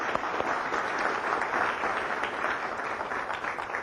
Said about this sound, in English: How about a round of applause for my students?